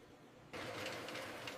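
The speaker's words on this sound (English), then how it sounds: "As they flow into the grinder, the nibs are crushed under immense pressure." A cocoa nib grinder crushing cleaned nibs into paste in a chocolate factory's grinding room starts up abruptly and runs as a dense, steady mechanical whir and rumble with a faint tonal hum.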